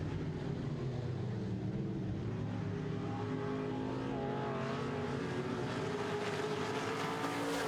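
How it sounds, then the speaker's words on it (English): Midwest modified stock cars race on an oval track, their engines forming a sustained roaring drone that rises and swells as the field passes, heard at moderate distance without talk. "Your leaders go around the front, just 2 laps to go in this race."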